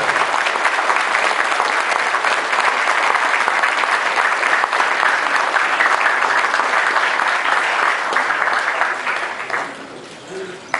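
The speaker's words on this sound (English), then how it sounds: "Please give them a big hands of applause again for our job well done." A crowd applauds regatta winners at a King's Cup prize ceremony, with steady, dense clapping that holds strong throughout before thinning out near the end.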